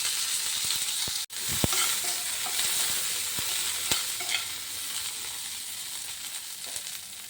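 Coriander seeds, black pepper and curry leaves dry-roast in a pan with a steady dry hiss and sizzle, broken by scattered sharp crackles and a few spoon scrapes, close and continuous.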